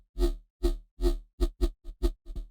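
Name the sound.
dry synth bass without effects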